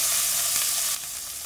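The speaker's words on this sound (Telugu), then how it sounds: "పోపు దినుసులు వేగంగానే మనం తరిగిన ఆనియన్ వేసుకోవాలి" Chopped onion dropped into hot oil with tempering spices in a kadai for purple cabbage curry, giving a loud, dense, steady hiss of frying that eases slightly partway through, close up, with no voices.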